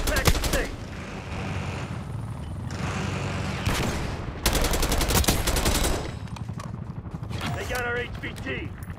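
Rapid automatic gunfire and heavy bursts crackle through a Call of Duty: Black Ops 6 match, loud and close, in dense volleys with short pauses, while voices talk over the shooting.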